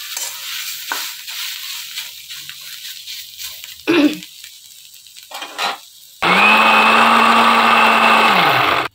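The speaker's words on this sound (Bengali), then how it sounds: "তারপরে মিক্সচারে গ্রাইন্ড করব" A mixer grinder whirs loudly and steadily as it grinds fried ghetkol paste, starting abruptly after quiet kitchen clatter and running on for a few seconds close by.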